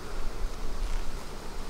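A honeybee buzzes close against a beekeeper's veil, a steady, near hum with slight rustling, alone without talk.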